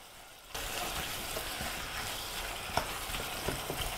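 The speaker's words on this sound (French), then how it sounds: "on va rajouter le concentré de tomate, on va venir mélanger" Minced meat and vegetables with tomato paste being stirred in a pan over low heat: a close, steady sizzle starts abruptly and continues, with scattered scraping and stirring knocks throughout.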